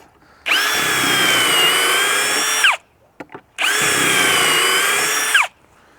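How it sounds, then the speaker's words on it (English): A power drill bores pocket holes through 3/4-inch by 3.5-inch 1x4 MDF set in a pocket hole jig. Two loud, steady whirring bursts of about two seconds each are separated by a short pause with a few small knocks. "Yeah, I'll go ahead and do these pocket holes. This is 1x4 MDF"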